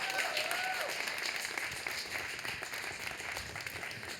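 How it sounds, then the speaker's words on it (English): A poetry event audience in Boston gives a round of applause, sustained crowd clapping at moderate level, with a brief tonal whistle or cheer near the start before the clapping settles into an even wash. "Can we give a round of applause for 15 years?"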